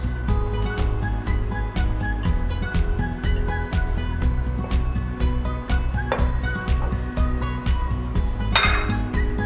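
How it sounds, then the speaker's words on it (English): A fork scrapes and clinks rhythmically against a bowl while mixing scuffin ingredients into a crumbly texture, a steady run of close, sharp taps and scrapes with no talk. "I'll use a fork, best way to mix the ingredients till the time you see a little crumbly texture being formed."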